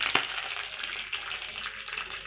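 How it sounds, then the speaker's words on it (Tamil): Mustard seeds spluttering in hot oil for adai dosa make a dense, close crackle throughout, opening with one sharp pop. "கடுகு வந்து நல்லா பொரியணும்."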